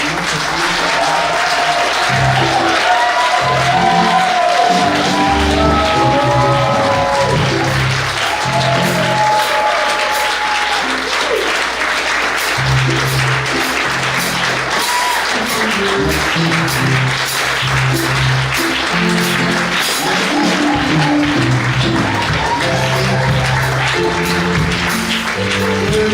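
Sustained applause from a large church congregation, steady and loud throughout, with clapping continuing without a break.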